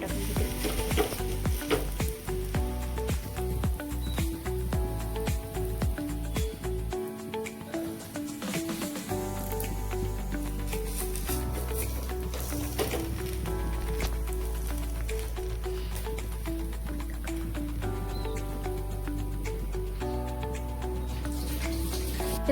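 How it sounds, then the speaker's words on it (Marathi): Dhapate flatbread frying in oil on a tava, giving a steady loud sizzle throughout with brief stirring and scraping touches and a short dip in the frying noise midway. "आता मी धपाटे टाकून घेते."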